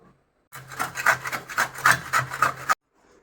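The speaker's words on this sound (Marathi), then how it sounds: "हे खोबरं किसून घेऊयात." Coconut being grated by hand, a burst of quick rhythmic scraping strokes close to the microphone, lasting about two seconds between short silences.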